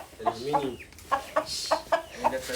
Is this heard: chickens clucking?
yes